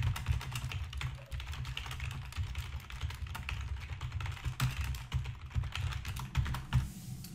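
Text being typed on a computer keyboard, a continuous quick patter of close key clicks with brief pauses and uneven bursts throughout, with no talking.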